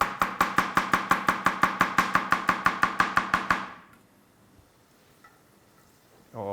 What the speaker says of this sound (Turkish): Sarmesak doğralım ki.